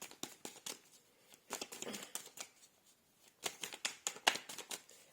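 Tarot cards shuffled by hand close up, quiet crisp riffles and flicks coming in short bursts with pauses between, no talking.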